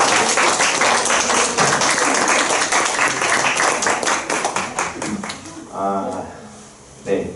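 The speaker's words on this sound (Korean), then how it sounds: "그동안 달려오신 우리 옆 사람을 향해서 그 격려와 축복의 박수를 한번" Clapping breaks out from a lecture audience at the close of a final class, a dense patter of many hands that thins into scattered claps, and a speaker then talks over the fading applause.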